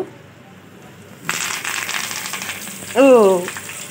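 Loud, steady sizzling of leaves frying in hot oil, starting abruptly and crackling on, with a brief tonal squeal near the end.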